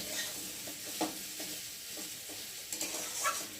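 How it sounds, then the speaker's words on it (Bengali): Mixed vegetables sizzle in hot oil while a utensil scrapes and stirs them in the pan, steady frying with occasional clinks. "আর এখন আমি একটু নেড়ে দেবো।"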